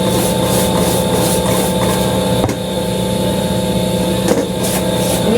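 An exhaust fan hums steadily in the background of a kitchen, a constant mechanical drone with a low tonal whine, broken only by a couple of faint knocks.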